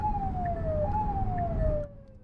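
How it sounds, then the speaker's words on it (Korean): A warning tone sounds inside an unmarked police patrol car, a steady electronic pitch that dips slightly and steps back up, heard over road and engine rumble before cutting off near the end. "1차로를 주행하던 흰색 승합차가 지나가자 차량 내부에서 경고음이 울리고"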